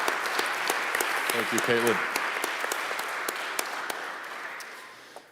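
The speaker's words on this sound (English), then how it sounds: "Let's give them a round of applause." Conference audience applause at an academic anniversary gathering, broad and steady, swelling then gradually fading toward the end, with a brief spoken thank-you rising over the clapping.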